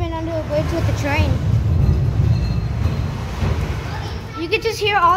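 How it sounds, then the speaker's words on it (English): A freight train rumbles low and heavy overhead while crossing a bridge, heard from underneath as a loud continuous roar with metallic scraping; people talk excitedly over it throughout. "That's a train."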